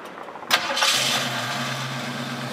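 A 1966 Ford Mustang V8 convertible cranks briefly, fires and settles into a steady, rumbling idle, heard close and loud with no talking.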